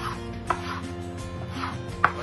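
A knife cuts vegetables into cubes on a board, with a few soft, separate chops spread over a couple of seconds and quiet kitchen background between them.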